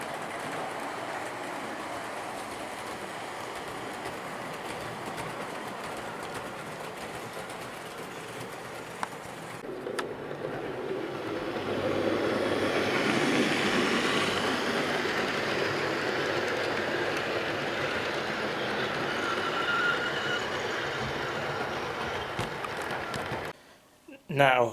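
A model railway train from an Arriva Transwales Premier Service set, a Class 67 locomotive hauling Mark III coaches with a DVT on the back, runs with a steady rolling rumble and clatter that grows louder partway through, ending in handling noise.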